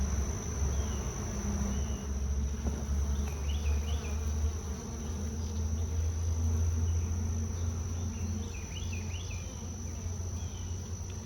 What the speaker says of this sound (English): You got two little emerging bees here.